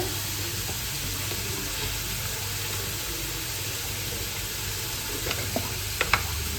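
Mustard seeds dropped into hot oil in a kadai while cooking stuffed bitter gourd give a loud, steady sizzle, with a few sharp pops near the end and no voices.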